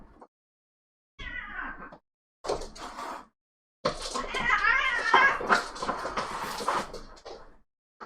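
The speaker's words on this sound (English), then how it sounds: "And my cats are fighting." Two house cats fight indoors, giving out bursts of yowling and scuffling in three separate outbursts, the last one longest and loudest, with silence in between.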